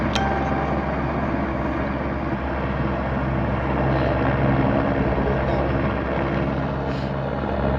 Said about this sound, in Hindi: यहाँ पे देखिए हेलीकॉप्टर आ रहे हैं और जा रहे हैं